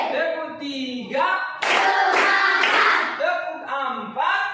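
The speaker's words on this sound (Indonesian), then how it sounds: "Coba tepuk 1, tepuk 2, tepuk 3," Rapid bursts of hand clapping in the Tepuk Fokus classroom clapping game, a tight cluster of claps in the middle, with a voice speaking and chanting before and after.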